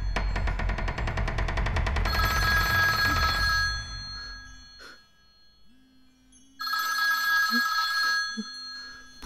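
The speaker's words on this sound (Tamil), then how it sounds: "ஃபோன் சவுண்ட் கேக்குது." Telephone bell ringing loudly in steady bursts, a long ring at the start, a pause with faint low sounds, then the ringing resumes near the end, in a dramatic film scene.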